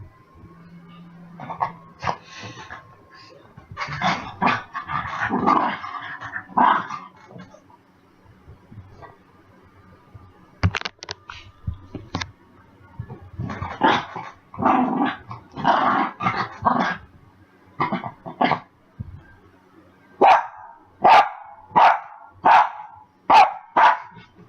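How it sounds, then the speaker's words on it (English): A puppy named Max barks and growls up close, uneven bursts of yaps and rumbling growls through the first part, then a quick run of six or so sharp, evenly spaced barks at the end. "Stop barking!"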